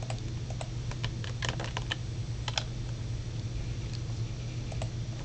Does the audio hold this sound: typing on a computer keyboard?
yes